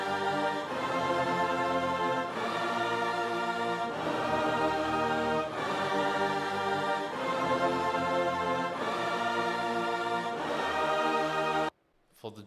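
Produced hip-hop melody stacked across high, mid and low octaves, a repeating phrase that loops about every two seconds, full and sustained, cutting off abruptly near the end.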